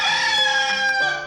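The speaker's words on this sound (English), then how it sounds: "R, rooster." A rooster crows once, a single bright, strained cock-a-doodle-doo heard up close and alone.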